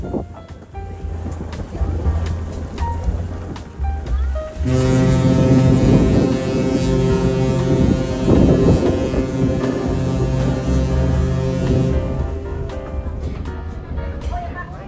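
Passenger ship KM Kelud docking at the harbour in Batam, with a loud low engine rumble and wind noise that rise and hold steady for several seconds, while people talk over it.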